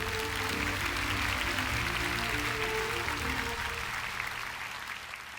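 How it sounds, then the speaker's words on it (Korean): Congregation claps in praise at the 2025 Daniel Prayer Meeting church service, a full, steady wash of applause over faint sustained tones that gradually thins and fades toward the end. "하나님께 영광의 박수 올려드립니다."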